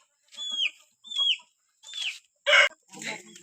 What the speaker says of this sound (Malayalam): ഇത് ആൻറ്റീൻ്റെ കോഴികളാട്ടോ.